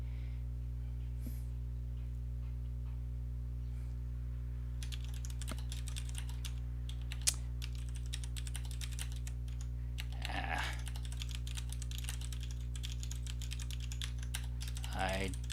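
Keys clatter on a Kinesis computer keyboard in rapid, uneven bursts of close clicks, beginning after a quiet stretch and running over a steady low electrical hum, with brief vocal sounds in between.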